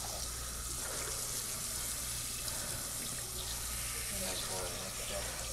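Tap water runs steadily as hair is rinsed out after a men's perm at a barber, a continuous even splashing and gushing that lasts throughout.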